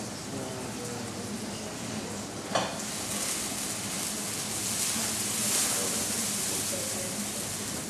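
Squid and shrimp frying in hot oil, a dense, steady sizzle and crackle close up, with one brief knock of a utensil partway through.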